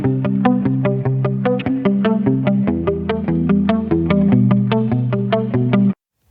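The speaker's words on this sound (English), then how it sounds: "So now we have this guitar sample and it sounds like this." A guitar sample plays a quick plucked riff with bright picked notes in a steady rhythm, processed and full, then cuts off abruptly near the end.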